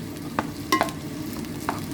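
Bacon frying in a cooking pot, a soft continuous sizzle broken by a few sharp crackles and stirring scrapes, heard close up with nobody speaking.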